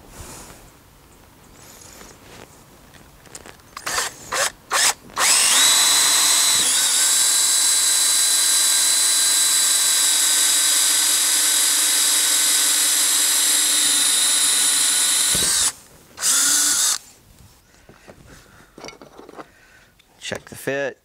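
A power drill with a hole bit whirs loudly and steadily for about ten seconds drilling a kayak for a fishfinder mount, with a brief second burst after, framed by clinks and handling noises.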